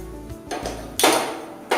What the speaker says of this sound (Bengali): ঘন হয়ে গেছে এখন আমি নাড়বো খুব